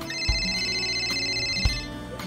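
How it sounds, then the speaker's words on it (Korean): A mobile phone rings at a bar table where soju is being drunk, a steady electronic ring tone sounding over a low room hum and a couple of dull thumps. "오빠 또 전화."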